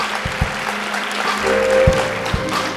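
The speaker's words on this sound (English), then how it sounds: "Come on, clap your hands as it comes" A church congregation claps along during a worship service: a steady wash of clapping with a few sharper, nearer hand claps, over sustained tones from accompanying music.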